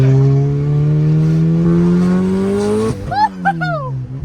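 A Honda Integra fitted with a Spoon N1 exhaust holds a loud, rising rev into VTEC with a strong droning tone, then drops off, with a couple of sharp chirping bursts and brief talk near the end.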